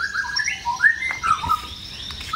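A songbird chirps and warbles in quick, varied phrases, close and fairly loud over a faint background hiss.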